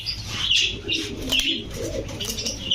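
Maxi racer pigeons in a shop coo continuously up close, with layered soft throaty calls, overlapping chirps and occasional wing flutters.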